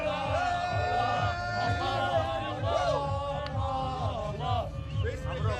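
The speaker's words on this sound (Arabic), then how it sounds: "هكذا تحتفل الجماهير المغربية، هكذا تشجع منتخب بلادها" Moroccan football fans celebrate a win, a dense crowd cheering and yelling together in a steady roar with rising whoops, loud and continuous throughout.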